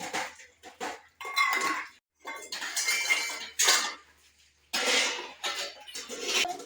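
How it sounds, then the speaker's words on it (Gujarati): Metal utensils and dishes clatter and clink in bursts, with scraping and rinsing sounds between pauses, close by and fairly loud. "વાસણ ઉટકી નાખ્યું ચાલો ફટાફટ વાસણનું કામ પૂરું કરી"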